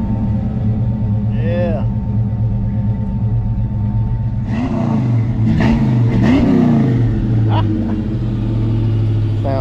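A car engine idles with a deep rumble, then revs up in a couple of throaty bursts through a loud aftermarket Low Master 40 series exhaust, with voices talking over it.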